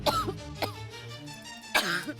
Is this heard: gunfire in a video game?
no